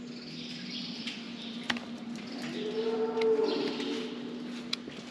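A cow held in a hoof-trimming crush lets out a single drawn-out moo over a steady low hum of farm-building noise, with faint bird chirps.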